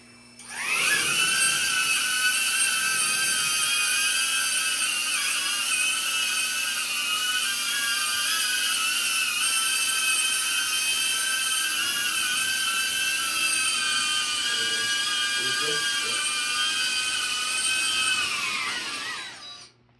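A commercial drone spins up and lifts off: its rotors rise into a steady high-pitched whine that holds, loud and close, for most of the span before winding down at the end, with no talk over it.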